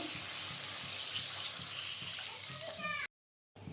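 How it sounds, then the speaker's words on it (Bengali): Water is poured into a hot pan of fried spices and nut paste for a vegetarian curry, a close, steady hissing sizzle and splash lasting about three seconds before cutting out abruptly. "এখন আমি দিয়ে দিব জল।"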